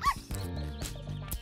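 A hungry dog found in the bushes whimpers and yips in short, high bursts, close and fairly quiet, with no voices over it.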